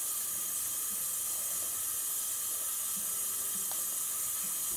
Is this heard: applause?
no